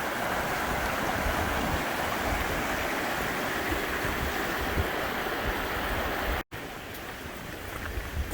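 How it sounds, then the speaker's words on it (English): River rushing along a valley trail toward Byron Glacier on a cool rainy day, a loud continuous broadband roar of flowing water with no pause or variation. "Love the sound of the river."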